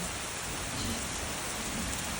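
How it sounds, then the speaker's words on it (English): Heavy rain from a thunderstorm pours down steadily, a dense, continuous hiss of downpour drumming on surfaces, loud and unbroken throughout. "this thunderstorm is producing lots of heavy rain"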